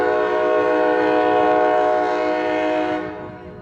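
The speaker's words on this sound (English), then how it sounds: "Mark horn's gonna be loud as heck." A K5LA horn on a MARC commuter train blares loud and close as one long chord, then cuts off abruptly near the end, leaving a fading rumble.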